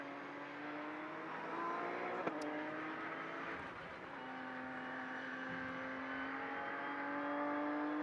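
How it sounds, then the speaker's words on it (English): A flat-six GT race car at Mugello during a four-hour endurance race holds a steady, fairly distant engine drone with gear changes and slight rises in pitch, alone without talk. "Just enjoy the sound of that straight six engine for a little bit."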